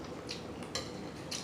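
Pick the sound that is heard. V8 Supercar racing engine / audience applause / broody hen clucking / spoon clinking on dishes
spoon clinking on dishes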